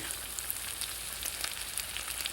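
Squirrel legs sizzle in a frying pan with a continuous, fairly quiet crackle and occasional small pops.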